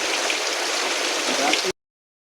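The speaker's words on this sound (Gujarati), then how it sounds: "વરસાદ તો રોકાવાનું નામ જ નથી લેતું" Heavy rain pours down on a farm field as a continuous loud, even wash of drops close by, cutting off abruptly near the end; nobody speaks.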